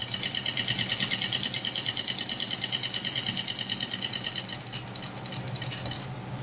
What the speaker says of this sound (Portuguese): Faço um retrocesso e vou começar a costurar todo o meu kit.